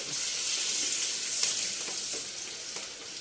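Green chillies frying in a pan for a Telugu cabbage, ivy gourd and toor dal curry, giving a steady close sizzle with a few sharp crackles and pops throughout, no voices.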